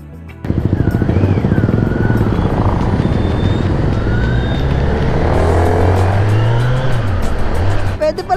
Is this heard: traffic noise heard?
yes